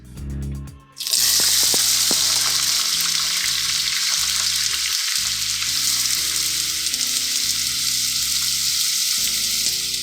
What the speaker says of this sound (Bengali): তেল গরম হয়ে গেছে, এবার আমি এতে দিয়ে দিচ্ছি 2টো বড় সাইজের পেঁয়াজ কুচি।